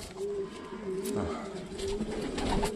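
Pigeons coo repeatedly in a breeding loft, a soft rolling low call recurring through the clip, with a voice talking faintly alongside.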